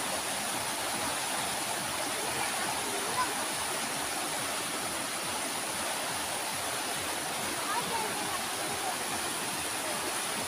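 A strong, swollen river rushes steadily in a broad, unbroken roar of water, loud and continuous without pause, with no voices over it.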